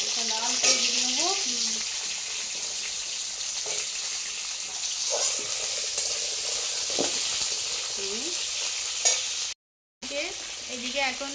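Malabar spinach (pui shak) stalks, with potato and taro, sizzle and hiss steadily in a hot pan of oil tempered with panch phoron and cumin, with occasional stirring scrapes and brief voices talking in the background.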